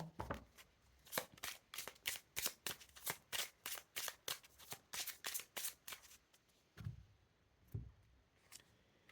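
Oracle guidance cards are shuffled in rapid riffling bursts that rise and fall over several seconds, then a couple of soft, separate snaps as cards are drawn, close up and quiet, with no talking.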